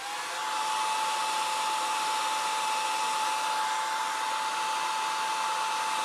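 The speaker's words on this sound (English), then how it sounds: "you can put the heat shrink tube on with a hair dryer" A hair dryer blows steadily and loudly without a break, being used to heat and shrink heat shrink tubing over small wires for a snow plow's backup camera.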